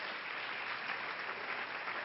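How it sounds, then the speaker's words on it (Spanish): A church congregation applauds, dense sustained clapping from many hands filling the room evenly and without a break. "Dele ese aplauso a la gloria del Señor."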